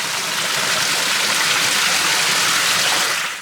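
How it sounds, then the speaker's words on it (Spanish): Spring water gushing from stone spouts at Fuente de los Clóticos, a fountain at the source of the Palancia river near Bejís, Castellón, Spain: a loud, continuous, close rushing splash that runs steadily and fades slightly at the end. "Y veis los caños, no da abasto ni a salir el agua que sale por la piedra."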